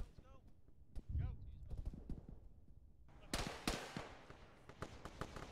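Gunfire in the military game Arma during a ShackTac squad session: scattered sharp shots, then a denser burst of louder gunfire, with people talking over the action.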